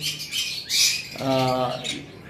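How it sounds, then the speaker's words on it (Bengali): Yellow-sided conure parrots giving harsh, loud squawks nearby, a couple of sharp calls followed by a longer raspy cry with a faint voice underneath. "আমাদের কাছে আরো কিছু ইয়েলো সাইডেড কুনুর রয়েছে।"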